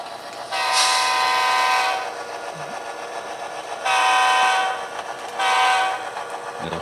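A loud locomotive horn blasts three times, one long and two shorter, over the steady rumble of a moving local freight train passing a wooded area.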